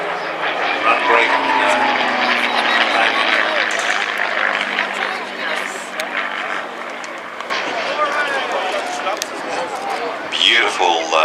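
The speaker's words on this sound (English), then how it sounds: "C-53 Sky Trooper" A C-53 Skytrooper flies a break at an air show, its piston engine and propeller drone loud and sustained, a falling pitch sweep passing through as a commentator's voice carries over it.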